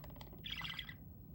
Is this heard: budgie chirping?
yes